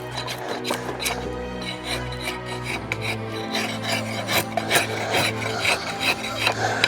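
A metal-handled draw knife shaves wood for lathe work in a traditional Dorset craft, producing repeated close, raspy scraping strokes in an uneven rhythm over a low hum.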